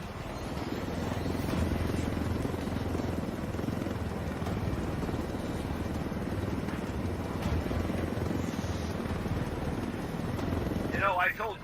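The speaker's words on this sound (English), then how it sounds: "I told Griffin I could figure out how to fly this thing. Qualified for planes. But not choppers?" Helicopter in Ghost Recon Wildlands, a steady close rotor and engine drone held throughout, with brief higher sounds near the end.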